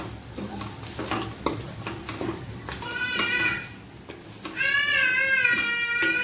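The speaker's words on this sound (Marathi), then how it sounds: "आता काजू घालायचंय आणि छान मसाल्यांसोबत मिक्स करून घ्यायचंय सर्व।" A spoon stirring and scraping paneer and cashews through sizzling masala in a pan in short strokes, with a high warbling tonal sound rising over it in the second half.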